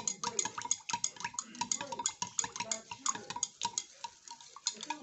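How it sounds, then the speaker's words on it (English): A spoon stirring an oil mixture with sodium lactate and propylene glycol in a container, quick repeated clinks and scraping ticks in an irregular rhythm, close and fairly quiet, with no voices. "Keep stirring."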